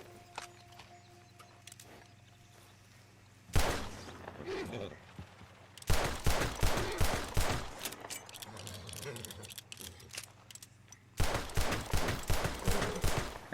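Pistol rounds fired beside a female horse in Red Dead Redemption 2, heard as bursts of sharp, close shots over low ambient hum, with clusters of rapid cracks in the second half.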